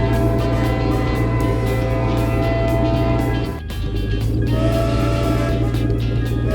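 An animated glowing train sits in a backyard in a children's cartoon, giving off a steady, loud rumbling hum with a sustained tonal drone that dips briefly partway through before resuming.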